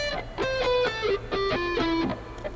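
Alternate picking on an electric guitar with a tactile, percussive pick attack: a quick run of picked notes, each with a sharp click, stepping through a short descending line with a low hum underneath.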